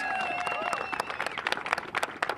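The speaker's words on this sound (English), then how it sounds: "give them all a round of applause" An audience applauds backup crew members Andre and Jenny at the Artemis II crew arrival event at Kennedy Space Center; a voice carries over the start, then a run of steady, fairly close claps builds.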